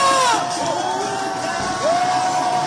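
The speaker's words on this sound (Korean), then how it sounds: "필승의 박수 보내주십시오. 승리의 박수 보내주십시오." A large crowd at a South Korean presidential election rally for Yoon Suk-yeol cheers and whoops loudly, with whistles rising above a continuous roar.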